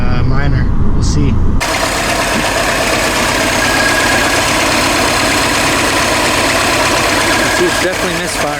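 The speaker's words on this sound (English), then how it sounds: "It's definitely misfiring." A Mini Cooper S engine with a misfire runs loudly up close, a rough, uneven idle rumble with a knocking vibration, after a brief opening burst of other noise.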